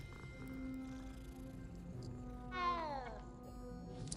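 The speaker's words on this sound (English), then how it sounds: "Oh my God, there's a cat." A cat in Hogwarts Legacy gives a single short rising-and-falling meow, fairly faint over quiet game ambience with a steady background hum.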